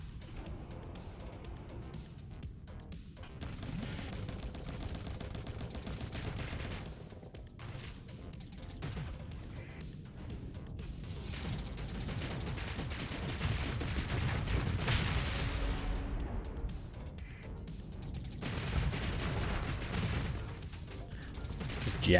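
Torpedo launches and ship weapon fire in the space combat game Starsector, a long stretch of dull booms, impacts and mechanical rumble layered over a steady low drone, with no voices.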